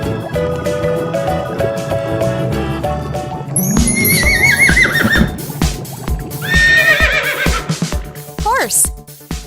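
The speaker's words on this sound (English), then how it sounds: "horse," A horse neighs twice in loud, shrill, quavering whinnies, set over rhythmic clip-clop hoofbeats and a busy musical backing, close and prominent.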